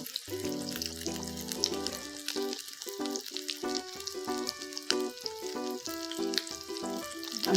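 Egg rice vadas fry in a little olive oil in a pan, a steady crackling sizzle running beneath louder background music with a pitched melody throughout.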